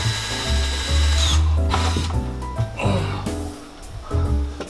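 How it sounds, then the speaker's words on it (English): A power drill whines and bogs down in bursts as a hole saw chews through a wooden cabinet, loud and close, with brief pauses between cuts. "So I've got my hole saw and drill, and I'm just gonna get in there"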